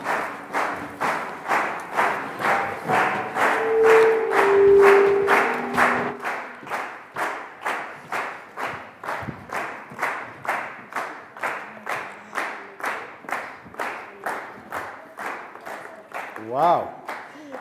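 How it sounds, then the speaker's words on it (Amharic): The studio audience of a late-night TV show in Ethiopia claps in unison for young scientists, with loud rhythmic beats at a steady pace that run throughout, partly joined by shouts and a brief cheer near the end. "የናንተን የድጋፍ ጭብጨባ ካልሰሙ አይወጡም"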